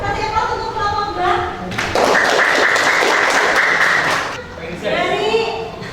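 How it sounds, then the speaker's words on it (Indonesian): Classroom applause for group B, a burst of clapping from pupils lasting a couple of seconds between stretches of a teacher talking. "Kasih aplaus untuk kelompok B."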